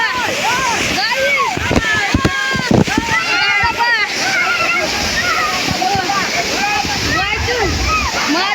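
Rushing water from a waterfall pours steadily and loudly throughout, with splashing bursts and a person's voice talking over the roar.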